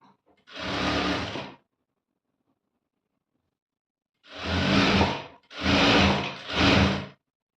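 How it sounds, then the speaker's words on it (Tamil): A sewing machine stitches a side seam on a dress with a piped edge, running in one steady burst, then after a pause in three close bursts, loud and near with no talking. "இப்போ இதை வந்து இன்னொரு தையல் போட்டுடலாம் சைடில்."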